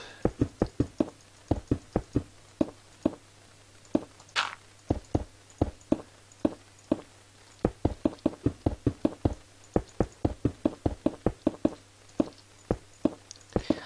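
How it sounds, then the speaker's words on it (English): Crisp, evenly spaced knocks repeat in quick succession as ground is dug up in a building video game, each hit short and sharp, with brief gaps and one small swoosh partway through. "Let's go ahead and dig all this up"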